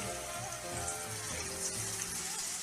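Hot oil sizzles steadily in a pan as it heats for frying panelle, a soft continuous crackle and hiss with no talk over it.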